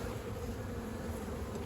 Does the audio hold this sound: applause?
no